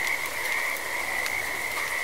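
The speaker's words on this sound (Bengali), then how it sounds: "তারই সঙ্গে তাল রেখে খানা ডোবার ব্যাঙেরা আসর জমিয়ে তুলছে।" Frogs croaking at a rainy night pond, a dense continuous chorus of rapid rasping calls close by with no voices.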